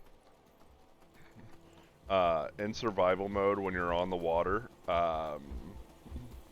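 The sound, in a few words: horse hooves clip-clopping in video game Skyrim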